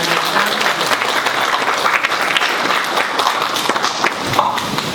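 Sustained applause from a forum audience at a Korean walking-and-welfare event, greeting a speaker coming to the podium; dense, even clapping fills the whole stretch with a steady, crowded texture and no talk over it.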